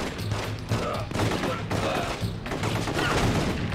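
Gunfire fills a police shootout in The Getaway: rapid, dense volleys of shots crackle continuously at close range, with overlapping bursts and a steady loud wash of game sound throughout.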